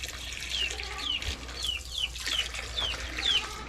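Chickens on a farm in the Philippines give a string of short, high, regular calls every half second or so, moderately close, over a quiet outdoor background with no talk.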